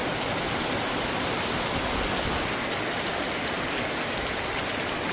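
Dense, constant rain roars evenly like a downpour, with no breaks and no voices.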